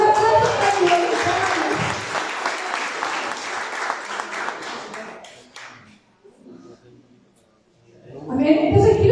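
A church congregation bursts into loud, dense applause for about five seconds, the clapping then fading away to near silence before voices return.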